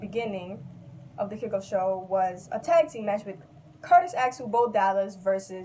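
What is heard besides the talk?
No everyday noises stand out.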